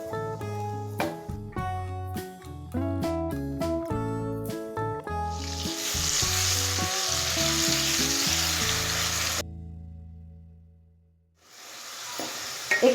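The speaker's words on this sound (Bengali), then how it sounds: "তেলের মধ্যে দিয়ে দেবো গোটা গরম মশলা। এখানে গরম মশলা 30 সেকেন্ড ভেজে নেব।" Whole garam masala hits hot oil and fries with a loud, dense sizzle that follows a short musical passage, runs for a few seconds, then cuts off abruptly.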